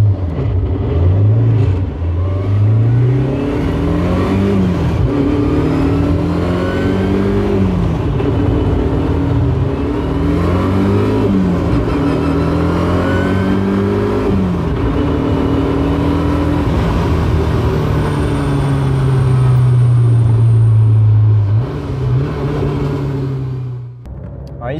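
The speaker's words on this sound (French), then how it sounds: "C'est une Ford RS 200, la street version." Ford RS 200 street version driving, its engine droning loudly and steadily from inside the car, rising and falling through repeated acceleration and gear changes before a long sustained pull near the end.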